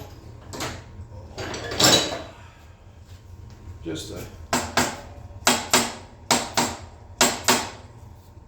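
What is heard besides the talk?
tapping motorcycle springer parts with a no-bounce hammer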